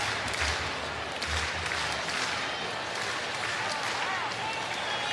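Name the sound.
baseball stadium crowd applauding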